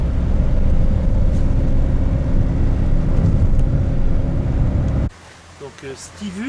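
Steady engine and tyre rumble from a car driving along a rural departmental road in France, loud and constant from inside the cabin, cutting off abruptly near the end as a voice speaks.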